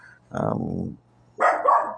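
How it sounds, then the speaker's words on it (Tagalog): A dog barks in two close, loud bursts with a short pause between them, the second bark higher and sharper, against a quiet background with a faint low hum. "Maingay. Tahol."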